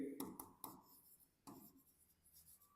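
A pen scratches across paper in short strokes while an accounts lesson is written out, the bursts quiet and close with pauses between them.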